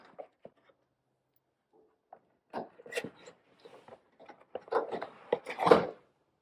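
Rubber trim piece being pulled out of a Chrysler Pacifica during a headlight bulb change, heard as a series of close scraping, rubbing and plasticky clicks that build into a louder tugging rasp near the end.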